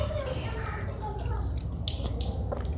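Water from a tap spatters and drips into a sink during wudu ablution, light splashes over a low steady background, growing brighter with a few sharper splashes toward the end.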